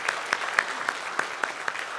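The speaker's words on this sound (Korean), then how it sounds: "잠깐 일어서시면 박수로 환영하도록 하겠습니다" Scattered, fairly faint clapping from a congregation welcoming newcomers at a Sunday worship service, individual claps standing out in a loose rhythm over a soft room wash.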